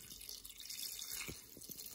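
Water pours steadily into the pot of an electric pressure cooker, a continuous splashing fill with a few brief drips, close and fairly loud, no voices.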